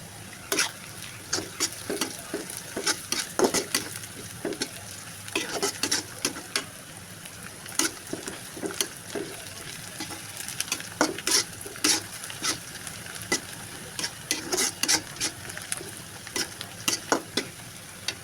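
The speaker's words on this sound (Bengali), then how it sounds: "এখন আমি শুকনা মরিচ দিয়ে দিব" Dried chillies frying for a duck curry, sizzling steadily in a pan while a spoon or spatula scrapes and stirs in repeated sharp clinks across the whole stretch, with no talking.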